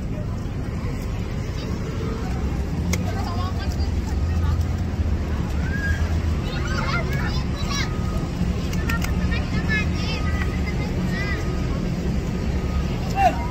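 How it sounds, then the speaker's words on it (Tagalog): A large passenger ship's engine drones low and steady at a busy port, beneath a constant crowd murmur with children's voices and nearby talk throughout. "Ito yung sasakyan namin barko."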